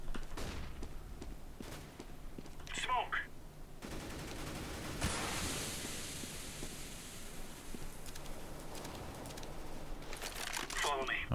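Gunfire from the video game CS:GO, a matchmaking round, crackling in scattered bursts of shots and a sustained noisy stretch, mixed under a voice talking throughout.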